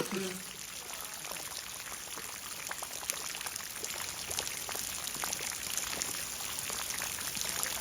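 Rain falls steadily, producing an even, fine pattering hiss that runs the whole time at moderate distance, with people talking faintly over it.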